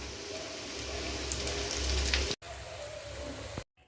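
Chicken cutlets fry in hot oil with a steady, dense sizzle that crackles continuously, breaks off sharply, resumes, then cuts out again near the end.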